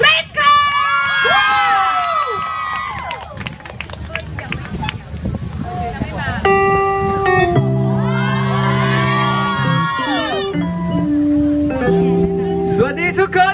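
A concert crowd at a Thai pop show, loud continuous cheering, high-pitched screaming and clapping, with shrill squeals rising and falling over a dense roar throughout.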